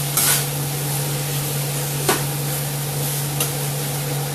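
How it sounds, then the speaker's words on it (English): Chicken fajitas with peppers, onions and mushrooms stir-fry in sauce, a steady close sizzle with a few sharp clinks of a utensil against the pan. "And immediately you're stir frying again."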